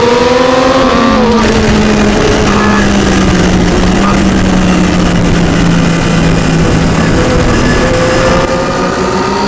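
A race car at Brands Hatch accelerates on a wet track, its engine note droning steadily and rising and falling in pitch with gear changes, loud and close throughout against constant road and spray noise.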